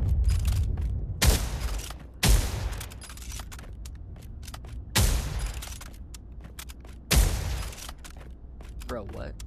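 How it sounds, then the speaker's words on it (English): Mosin Nagant rifle fired in the video game Pavlov, four sharp, loud single gunshots spaced about a second or more apart, each with a short boomy tail, separated by quieter mechanical clicks of the bolt. "Next up we have the Mosin Nagant."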